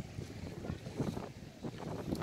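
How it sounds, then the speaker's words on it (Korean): Strong wind blows at Beolcheonpo beach in Seosan, buffeting the microphone with a continuous rough rumble and gusty surges throughout. "오늘 바람도 많이 불고"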